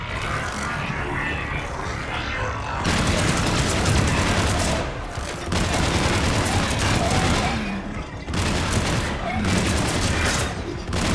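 Rapid gunfire and bursts of automatic weapons from the video game Mass Effect 3, dense and loud in long stretches broken by brief lulls, with voices calling out under the shooting.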